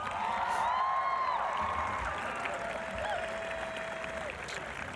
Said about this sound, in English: Please join me in honoring our WHS staff members here in attendance with a big round of